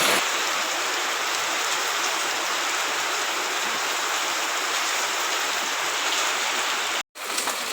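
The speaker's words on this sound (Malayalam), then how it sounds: "നല്ല മഴയാണ്" Heavy rain pours down in a village setting, a dense, even hiss that holds steady and loud, cutting out abruptly for a moment near the end before resuming.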